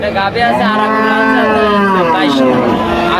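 A dairy cow at a cattle market lets out a loud, close, drawn-out moo lasting about three seconds, with a rising and falling pitch.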